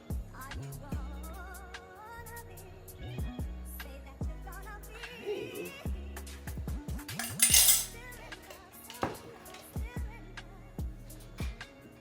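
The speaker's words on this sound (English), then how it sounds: "I'm gonna stir this up." A spoon stirs a rose body oil mixture in a container, giving light repeated clinks and scrapes against the sides under steady background music.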